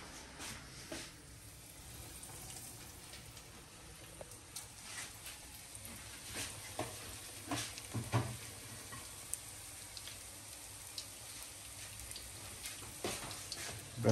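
Hungarian meatballs (fasírt) sizzle steadily while frying, giving a constant crackling hiss broken by small pops and occasional clinks, with no talk.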